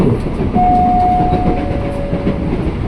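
KRL INKA Trainset 05 commuter train heard from inside a carriage, a loud steady rumble of wheels on rails with a faint high tone sustained through the middle.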